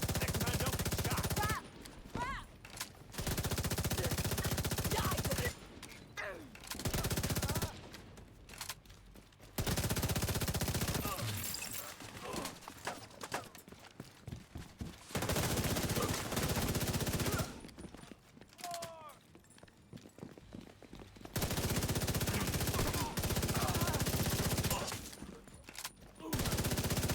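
Gunfire in Rainbow Six Siege comes in long stretches of rapid automatic shots, loud and close, broken by short pauses, with a player talking at times.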